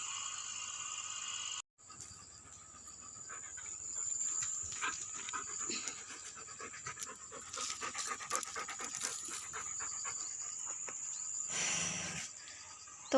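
A dog pants steadily and fairly close, a rapid rhythmic breathing that carries on through most of the stretch after a brief silent gap near the start, with no speech over it.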